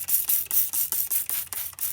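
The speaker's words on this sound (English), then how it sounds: "Now I get my spray bottle." A hand spray bottle mists soapy water onto radius rod bushings on an MCI MC9 coach. About eight quick, close spritzes come in a steady rhythm, each a short hissing burst.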